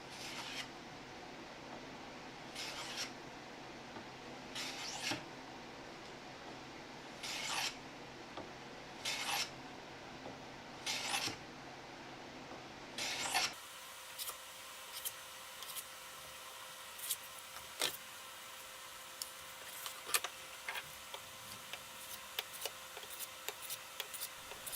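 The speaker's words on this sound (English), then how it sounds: "I'll sand up to 320." An epoxy river panel edge hand-sanded up to 320 grit: steady rhythmic back-and-forth rasping strokes, close and moderate, first in slower even passes, then shorter quicker scrapes over a quieter background.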